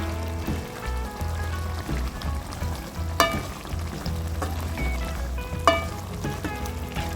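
A pan of egg curry bubbles and sizzles steadily, with occasional clinks and knocks against the pan.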